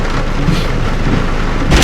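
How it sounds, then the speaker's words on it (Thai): A hailstorm in a Thai forest area pours a dense, loud roar of hail and rain onto surfaces, with a low rumbling of thunder beneath and a sharper burst of clatter right at the end. "นี่เขาเรียกพายุลูกเห็บ"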